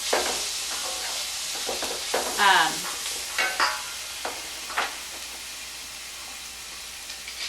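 Vegetables sweat in a hot pan with a soft continuous sizzle, broken by a few louder bursts of stirring and scraping and one whistling squeal; the sound stays close and moderately loud, with no talking.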